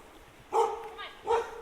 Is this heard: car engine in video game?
no